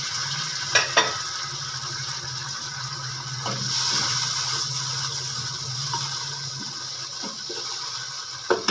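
Water hits frying onions in a pot for vegetable pulao, giving a steady broad sizzle that swells briefly near the middle, with a few soft clinks and taps.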